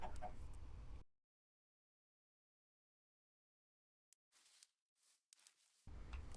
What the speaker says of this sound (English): And I'm now looking after these chickens,